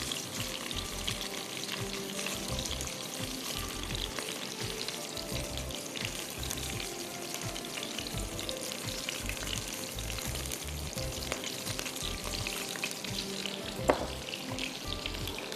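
Chicken drumsticks fry in oil in a covered pan with a steady, even sizzle and occasional crackles, plus a single metallic clink near the end and no talking.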